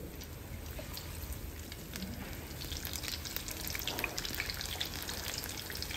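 Paneer finger pakoras fry in hot oil with a dense, steady sizzle and fine crackling that holds at an even level throughout, close by and with no voices.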